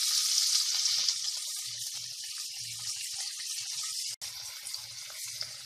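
Chopped onion tossed into a frying pan with liver sizzles steadily in a home kitchen, a constant close hiss with small bursts of crackling throughout.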